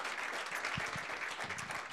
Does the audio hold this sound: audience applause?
yes